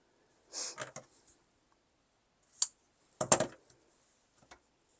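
Scissors cutting 1-inch webbing strap for tote bag handles: a few short, crisp snips and clicks separated by pauses, close and fairly quiet, with no talking.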